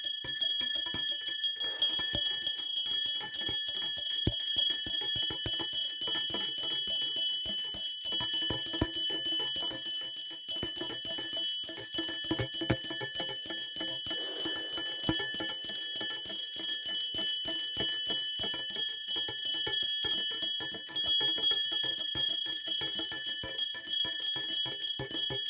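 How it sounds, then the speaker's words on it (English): Many small bells ring continuously in a dense, shimmering jingle that holds steady and fairly loud for over twenty-five seconds, with no voices. "Felt like we need some bells going for a minute here."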